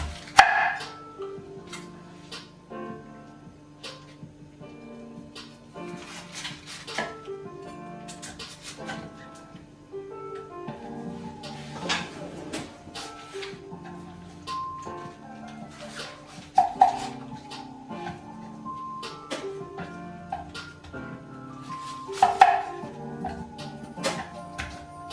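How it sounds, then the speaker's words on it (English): Knife chopping purple cabbage into quarters on a board for sauerkraut, a series of separate sharp thunks and cuts spaced irregularly, with occasional louder strikes and a few quieter knocks in between. "So when I chop it, I just chop it into quarters."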